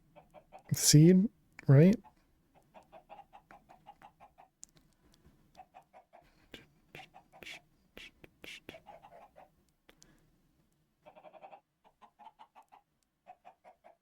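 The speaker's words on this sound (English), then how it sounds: "it's so nice hearing the chickens constantly" Chickens cluck in a farming survival video game, short quiet clucks repeating in scattered bursts through the stretch, with two loud sharp squawks near the start and a player talking softly over it.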